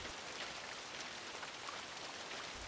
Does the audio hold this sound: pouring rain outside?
yes